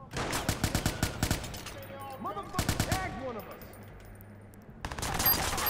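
Bursts of rapid automatic gunfire in the video game Watch Dogs, loud close rattling volleys broken by pauses, with a muffled voice and impact sounds between them.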